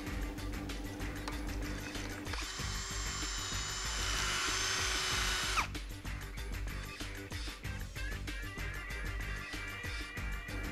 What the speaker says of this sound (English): Using a drill mounted wire brush, clean the surface of the area on the cylinder head where the copper tube fits.